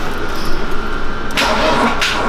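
Old Mercedes convertible, left unused in a garage for five years, cranking on a single good battery without catching: a steady near whirring drone with two bursts of brighter starter churn toward the end, no voices.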